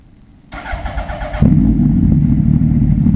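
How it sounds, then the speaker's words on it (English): A BMW superbike engine cranks with a short whirring starter, then catches and settles into a loud, rumbling idle close by. "That's the ignition sound."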